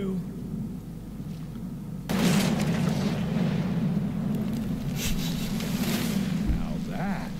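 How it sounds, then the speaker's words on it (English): Video game explosion in Evil West, a sudden loud broadband blast erupting after a quieter rumbling stretch, then a sustained roaring, crackling wash of debris and fire that stays heavy to the end. "Now that is how you shape an explosion."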